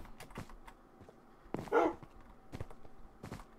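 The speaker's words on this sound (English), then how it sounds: "Oh man, these dogs are gonna be evil." A dog barks in the Minecraft video game, a short sharp burst in the middle, with a few faint clicks and yips scattered around it.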